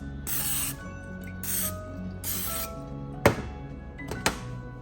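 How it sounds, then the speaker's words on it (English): Three bursts of non-stick cooking spray hissing in quick succession onto mini muffin tins, followed by two sharp knocks of a can or tin being set down nearby. "I'm going to spray it liberally with some non-stick"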